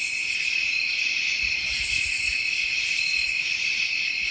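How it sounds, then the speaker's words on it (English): Crickets chirp steadily at night outside an A-frame cabin, a dense continuous high trilling chorus with no voices, moderately loud and unbroken throughout. "I hear crickets."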